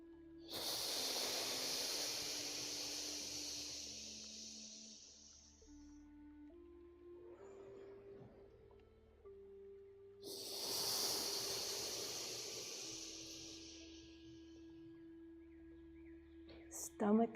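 A voice imitates lung breathing with two long, breathy hissing exhalations separated by a quieter pause, set over a steady sustained tone in the background.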